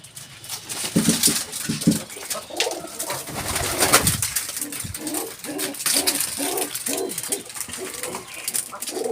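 Pigeons coo repeatedly at close range in a loft, soft rolling calls overlapping one another, with rustling and fluttering movements around them.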